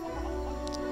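Chicken clucking inside the Lego Worlds video game, a short burst of brief high cluck notes near the end over steady, loud game music and ambience.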